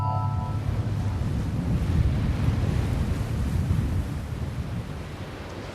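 Mediterranean surf breaks on a beach where the waves mark a sandbar, a loud, steady wash and rumble of water mixed with wind noise on the microphone, continuous and easing slightly at the end.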